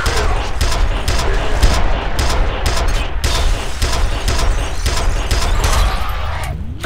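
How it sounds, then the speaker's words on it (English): Heavy shotgun fire rips through a firefight in the video game F.E.A.R., with loud, rapid overlapping blasts and crashing impacts. The barrage continues almost without a break, with no voices. "Ow, don't shotgun me."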